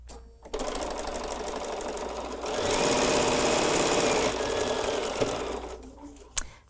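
A sewing machine stitches quarter-inch seams on quilting fabric, a fast steady whirring chatter that runs for several seconds, picks up pace in the middle, then stops with a soft thunk.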